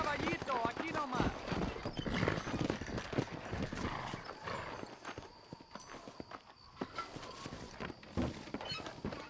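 Horse hooves clip-clop steadily during riding in the Red Dead Redemption game, a continuous trotting rhythm heard under characters talking and background music.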